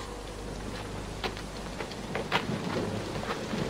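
Steady rainfall patters on surfaces while thunder rumbles low and continuously beneath it, with scattered louder drops and crackles standing out.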